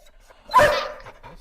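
A dog gives a single short, sharp bark close by, with brief faint noise trailing after it.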